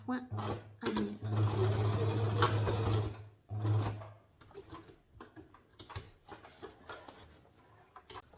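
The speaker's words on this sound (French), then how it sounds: "Et on vient faire un point arrière." A domestic sewing machine runs in two short bursts, a close rapid mechanical whir, stitching a backstitch on a fabric wall organizer pocket, followed by quieter clicks and handling while someone speaks French.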